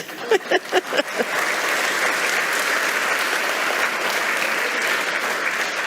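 Audience applause at a talk, starting with a few loud spoken words, then swelling into steady, sustained clapping from a crowd that holds evenly to the end.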